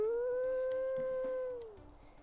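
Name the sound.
wolf howl in the video game WolfQuest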